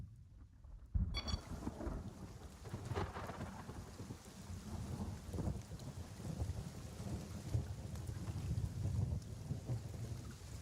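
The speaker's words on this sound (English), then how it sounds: "There's the thunderstorm rolling through, which sounds pretty cool." A tropical thunderstorm in a shooter video game's new DLC, heard as a steady wash of heavy rain with rumbling thunder rolling through after a sudden onset, continuous and fairly close, with no voices.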